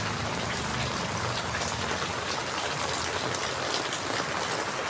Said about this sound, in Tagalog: Grabe, walang tigil ng ulan.